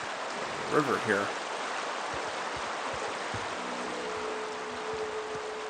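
Running river water in The Outer Worlds makes a steady, close rushing wash throughout, with a brief voice near the start and soft game thumps underneath.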